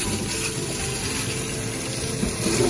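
Tap water runs steadily into a sink while frozen small and large squid are rinsed to separate and thaw them, a moderate continuous gush with faint handling near the end.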